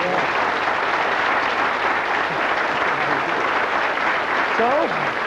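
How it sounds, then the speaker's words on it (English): Applause from a television talk-show studio audience, a loud, continuous crowd of clapping hands with a voice briefly heard over it near the end. "you can applaud our band for that"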